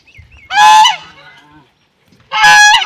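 Ducks at a cow shelter give two loud, close, nasal honking calls about two seconds apart, with a quiet gap and faint low rustling between them.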